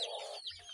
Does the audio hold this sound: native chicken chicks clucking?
yes